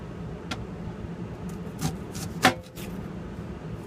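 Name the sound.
knife slicing onion into quarter-inch slices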